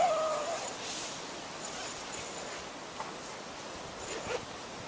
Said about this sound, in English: we'll zip up.